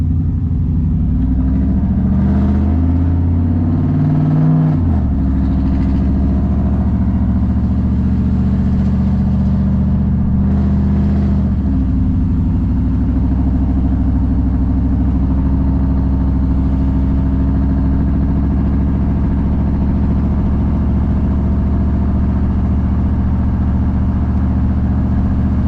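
A cammed GMC Yukon V8 pulls away while driving, its loud lumpy exhaust rumbling and revving as it climbs through gear shifts, then settles into a steady drone for the rest of the stretch.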